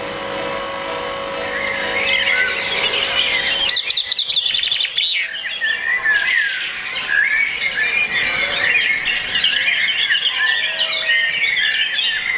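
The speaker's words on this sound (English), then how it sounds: "I think we should leave this bird song going for a little bit." Recorded birdsong is played back during a music rehearsal, with dense chirps, tweets and squawks running continuously for several seconds, loud and close, with no talk over it.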